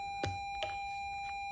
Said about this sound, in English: there's the bell, guys.